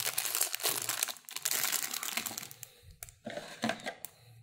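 Plastic bags from a Lego Vidiyo box crinkle and rustle close up, in steady crumpling bursts with brief pauses and a few sharper crackles, with no talking.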